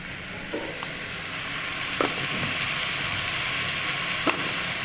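Soybean chunks frying and being stirred in a pan, a steady close hiss of oil punctuated by a few light spatula knocks.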